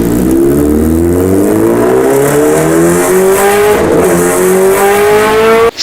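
A KTM engine in a video game revs loud and close, holding a rising, steady whine for several seconds before cutting off abruptly at the end.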